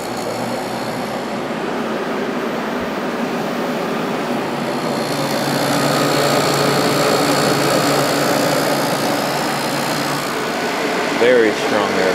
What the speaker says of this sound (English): I think the compressor will start.